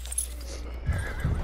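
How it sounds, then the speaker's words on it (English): A horse in a shooter video game gives a short neigh followed by thudding hoof sounds, fairly close, amid quiet game ambience. "Watch out, horse."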